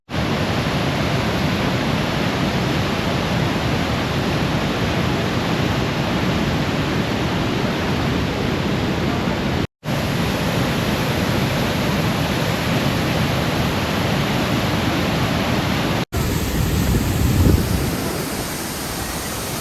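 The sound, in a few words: Usri waterfall, heavy rushing water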